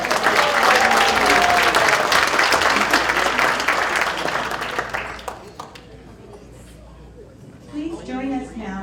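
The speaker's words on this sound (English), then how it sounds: "So let's hear it for Robert Gottschalk." Applause from the audience at an awards banquet for man, woman and student of the year, a loud, dense wash of clapping that fades toward the end while voices come in.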